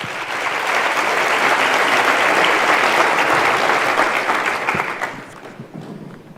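A large audience at a university graduation ceremony applauds the choir with dense, loud, sustained clapping that holds steady for about four seconds before thinning and tapering off toward the end.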